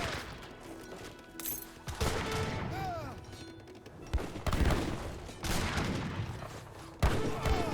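Gunfire volleys in an Age of Empires 3 battle with falconets, longbowmen and Gatling guns: dense overlapping musket crackle and periodic heavier bursts over a busy battlefield din, with game sounds mixed throughout.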